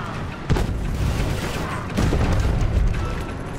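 A grenade goes off in the game Inversion as a loud boom amid continuous rumbling gunfire and mechanical clatter, up close with no talk.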